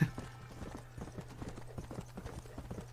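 Horse hooves clip-clop at a steady gallop in the Red Dead Redemption video game, a regular drumming rhythm of close, moderately loud hoofbeats running throughout over a low constant hum.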